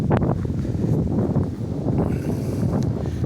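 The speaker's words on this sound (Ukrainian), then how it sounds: "Сильний вітер" Strong wind buffets the microphone in an almond orchard, a constant low roar and rustle, loud and continuous throughout, with no voices.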